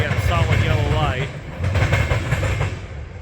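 Norfolk Southern coal train rolling past, a loud steady rumble of railcars with rhythmic wheel clatter over the rails, while a voice speaks early on.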